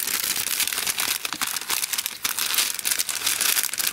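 Paper wrapping on a swap package is torn open and crinkled, with dense, continuous rustling and crumpling close by for several seconds and no talking.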